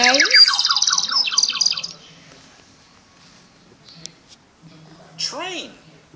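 A small bird chirps and tweets in rapid bursts during a child's study time, then goes quiet before a final short chirp, with a voice heard alongside.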